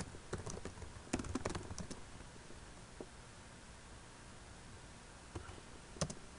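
Clicky keyboard typing in short bursts, a rapid flurry early on, a pause with a few isolated taps, then another quick cluster; close and fairly quiet.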